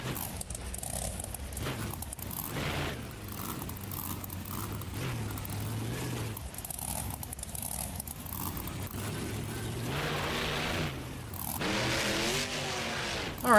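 A monster truck in the BeamNG Monster Jam arena game drives off with a rumbling engine, mid-distance, and revs up with rising pitch near the end.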